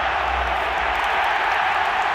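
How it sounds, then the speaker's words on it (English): A rugby league stadium crowd at State of Origin 2019 Game I, Queensland Maroons against New South Wales Blues, roaring and cheering in a broad, steady wash of noise that holds throughout. "Oh, the crowd loves that one."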